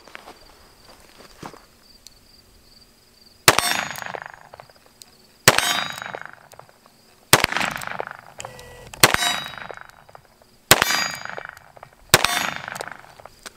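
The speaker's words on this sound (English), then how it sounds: "So I'm gonna shoot 6 rounds at this target and we'll see how it goes." A Colt King Cobra 4-inch target-model revolver fires six rounds at a target, each loud sharp report spaced about two seconds apart and trailed by ringing echo, over a steady background hum.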